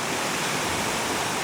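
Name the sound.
fast-flowing river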